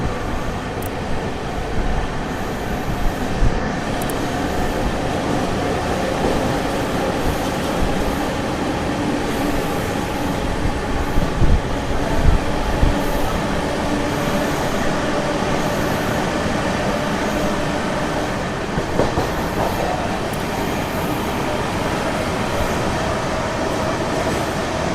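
An Amrit Bharat Express train runs through Ramagundam station without stopping, heard from on board as a steady rolling rumble with faint wheel clatter and no talk.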